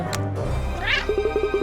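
A cartoon cat meows in the Cat Quest video game, one drawn-out, rising mew followed by a quick string of short, chirpy meows over a soft background game tone.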